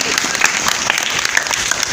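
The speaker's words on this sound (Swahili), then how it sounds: "Wapi makofi yangu jamani?" Audience applause at a live comedy show, a brief burst of dense clapping filling the room, steady and fairly loud throughout.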